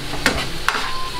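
Steak sauce with a little sugar sizzles in a pan over high flame, with two quick scraping stirs against the pan over a steady fry.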